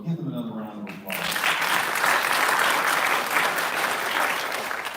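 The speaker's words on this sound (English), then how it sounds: "So give them another round of applause." A voice speaks briefly, then a crowd at a sheriff's office panel discussion breaks into sustained, loud applause that continues steadily to the end.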